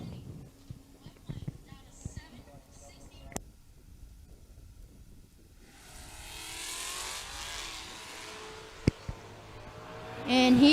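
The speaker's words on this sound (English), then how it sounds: "Lucas Walker in that wheel standing fox body" A Ford Fox body Mustang launching with a wheelstand at a drag race, a roaring engine surging in after a quiet stretch of clicks and ambient noise, loudening toward the end, with an announcer talking over it.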